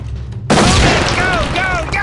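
A stinger grenade detonates during a door breach in the SWAT 4 video game, a sudden loud blast that cuts in abruptly and stays dense and roaring, with faint game voices and tones layered through it.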